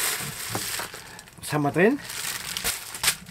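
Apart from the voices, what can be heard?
crinkling packaging material while unpacking a parcel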